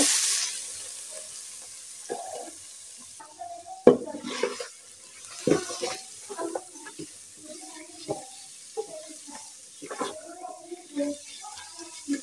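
Radish greens drop into hot oil in a pan and are stirred, producing a steady close sizzle broken by scraping and clattering stirring knocks, with a few quiet voice-like sounds in the background.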